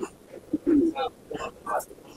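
Home-kept pigeons coo in short, low, throaty bursts, several calls close together, near and moderately loud with a few soft extra sounds between them.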